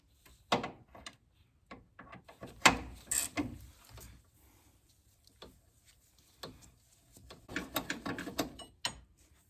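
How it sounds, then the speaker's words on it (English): Ratchet turning a cab mount bolt on a 1999-2007 Ford Super Duty truck: quiet, close clicking bursts with metallic clanks, in irregular spells separated by pauses. "You gotta use a ratchet to get this one"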